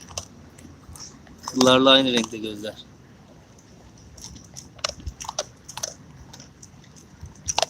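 A cat crunches on a mouse: crunching, crackly chewing sounds come in irregular bursts up close, with a person speaking briefly partway through.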